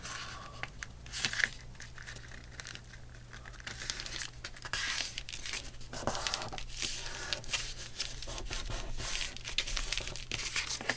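Paper being folded and creased into a pocket for a journal, with steady crinkling, rubbing and brief tearing-like rustles throughout, close and moderately loud, no talking.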